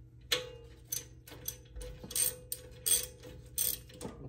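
A ratchet with a 10 mm socket loosens a rear brake bolt on a 2004–2015 Nissan Titan, giving quick bursts of close, dry clicking strokes separated by short pauses.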